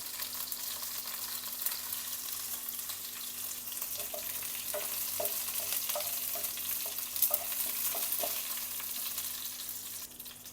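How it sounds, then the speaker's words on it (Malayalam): Mustard seeds sizzle in hot oil with a steady, soft hiss and scattered small pops and crackles. "അതിനകത്തോട്ട് എണ്ണ ഒഴിച്ചിട്ടുണ്ട് അതിനകത്തോട്ട് കടുക് ഇട്ട് കൊടുക്കാം"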